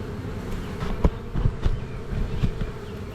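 Bees buzz busily and close by at a hive entrance, a dense humming swarm with occasional louder buzzes as individual insects pass near.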